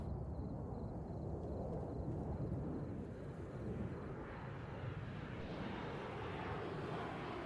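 A jet aircraft in the Warlords Redux video game, a steady broad roar that swells and holds without a break, fairly distant and even in level, with no voices over it.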